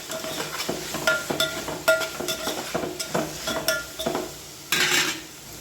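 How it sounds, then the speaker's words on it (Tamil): Spoon stirring turmeric, chili and garam masala powders into a mushroom biryani base in a pot, with repeated scraping clinks and knocks against the metal over a soft sizzle, one louder scraping burst near the end. "ஆட் பண்ணி நல்லா கிளறி விட்டுடலாம்."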